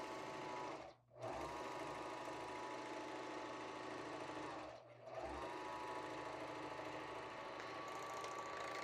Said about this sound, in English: the feed dogs on our serger will naturally pull the fabric through